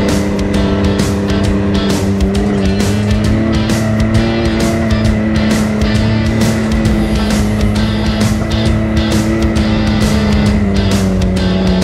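An off-road vehicle driven on a muddy trail ride at Tecumseh, engine droning loud and close with a constant rough roar and rapid clattering bursts throughout, no talk.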